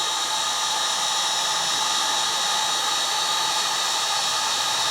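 A heat gun warming up and blowing hot air onto heat-shrink tubing while soldering electrical wiring, giving a steady, loud broadband whoosh that continues unchanged throughout with no talking.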